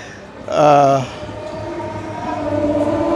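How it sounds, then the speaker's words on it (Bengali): A train horn sounds briefly, then a steady low rumble as a local train rolls into the station nearby, with faint background noise throughout. "একটার পর একটা ট্রেন আসছে"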